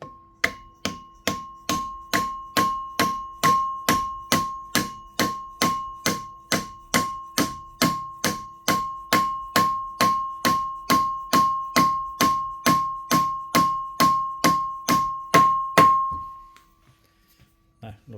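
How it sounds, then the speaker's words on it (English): A drum sander bearing is tapped onto its shaft with a fitted tool: about forty even metallic taps ringing with a clear tone, steady rhythm for roughly sixteen seconds, close and distinct, then stopping. "get something that fits over the shaft and fits the inside race, and then just gently tap it on"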